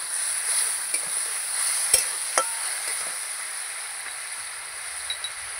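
Spice masala with turmeric and a splash of water fries in a pan, giving a steady bright sizzle with a few sharp ticks and stirring scrapes, and no talk.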